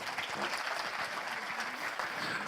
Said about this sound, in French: ça mérite quelques applaudissements de la foule en délire